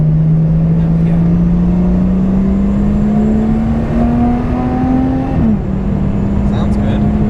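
Race car engine revved high in third gear as the exhaust starts to flap and turns noisy, a loud steady drone climbing slowly in pitch before a brief dip and settling again, heard from inside the car.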